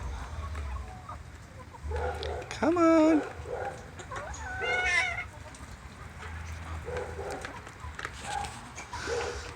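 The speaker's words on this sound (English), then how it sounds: "that is the chickens on a rainy, muddy day" Chickens clucking and calling in a muddy farmyard on a rainy day during feeding, a few louder squawks and calls standing out over steady background noise, with a person speaking briefly nearby.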